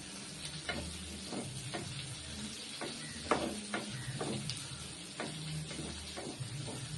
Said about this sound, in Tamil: நல்ல கலர் மாறுற வரைக்கும் நல்லா வதக்கணும் பத்து மிளகாயை